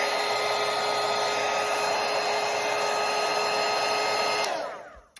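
A handheld hair dryer blows steadily and loudly across a freshly painted watercolour parrot, a continuous whooshing roar that cuts off abruptly near the end.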